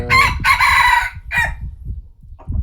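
A chicken crows loudly close by in a few drawn-out bursts, followed by softer clucking, with no one talking.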